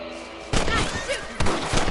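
Rifle fire in the Western video game Red Dead Redemption, two sharp booming shots about a second apart, each with a short rumbling tail over a quiet background hum.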